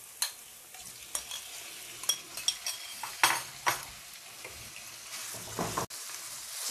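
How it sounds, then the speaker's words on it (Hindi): Chicken sautés in a pan over a slow flame, a low steady sizzle with frequent clinks and scrapes of a stirring utensil against the pan, close and moderately quiet. "चिकन को स्लो फ्लेम पे सौते करेंगे।"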